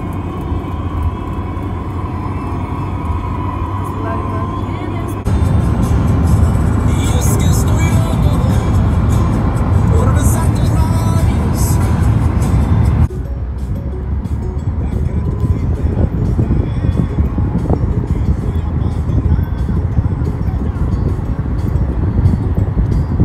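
Car interior on a long highway road trip, with steady low engine and road rumble plus wind noise throughout, shifting in level at a couple of points.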